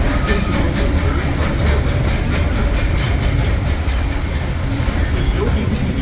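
Disneyland Railroad train with the C.K. Holliday locomotive rolling along the rails into New Orleans Square Station, a steady loud rumble of wheels and car noise with faint rhythmic clacking throughout.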